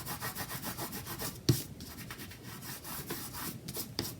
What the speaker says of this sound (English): I'm going to give it a good rub down